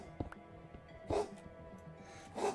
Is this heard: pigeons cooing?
no